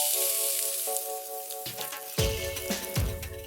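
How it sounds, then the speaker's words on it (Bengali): Chopped onion sizzling in ghee in a wok: a crackling sizzle rises and flares in bursts partway through, close up, over a steady background tone. "এর জন্য কড়াইতে ঘি নিলাম ও তাতে দিলাম কিছুটা পেঁয়াজ কুচি।"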